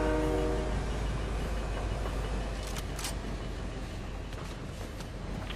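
A train in the Fortnite video game rumbles past at close range, a steady loud rolling drone with faint higher squeals partway through, no speech.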